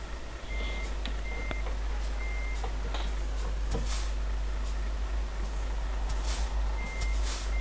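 Repeating reversing beeps from a truck in Euro Truck Simulator 2, evenly spaced tones over a constant low engine rumble and a few soft clunks, with no talk.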